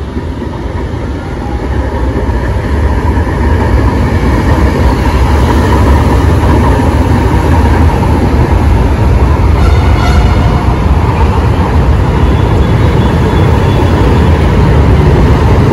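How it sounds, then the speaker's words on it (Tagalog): A fourth-generation LRT-1 light rail train set passes an elevated station on the Cavite extension in the Philippines, a loud, steady roar of wheels and running gear close by that builds and then holds with faint rattles. "Ayan na po yung 4th gen train set bound for Dr. Santos in Sucat, Parañaque."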